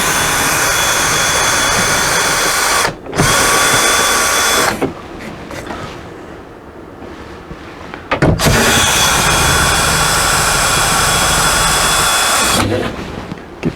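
A power drill whirs loudly in long bursts as it backs out the hold-down bolts of a Dometic AC unit, with short pauses and a quieter stretch between runs.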